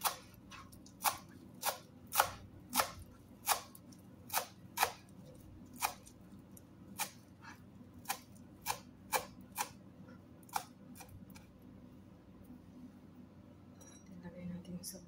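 Knife chopping washed romaine and kuspara (celery) finely on a board for a vegetable salad, a run of about twenty sharp, evenly spaced taps close up that stops partway, leaving quiet room noise.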